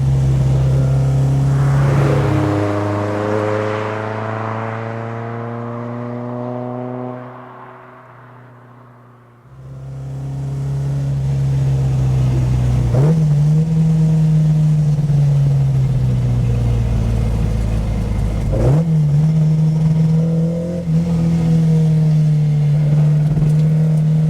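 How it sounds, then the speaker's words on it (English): Alfa Romeo GTAm engine breathing through Weber carburettor trumpets, loud and close, revving up through several gear changes with a dip to near idle midway before climbing hard again, rich harmonic snarl throughout. "The sound from those trumpets from the Webbers"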